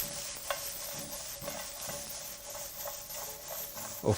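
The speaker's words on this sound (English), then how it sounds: "Add your carrots. Add your spring onion. And proceed to toss together." Carrots and spring onion tossed in a hot oiled pan for chicken stir-fried rice: a steady sizzle with soft repeated scraping and stirring, and a louder clatter right at the end.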